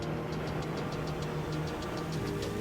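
Ski-Doo Renegade XRS 900 ACE Turbo R snowmobile, 2024 model, its turbocharged engine giving a steady loud drone with a rapid ticking pulse running through it, heard alone.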